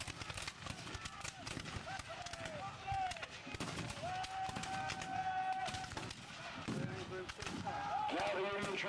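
Ten artillery guns firing at an American Civil War reenactment at Kirby Hall: a loud rolling run of cannon blasts and cracks at a distance, under a voice talking.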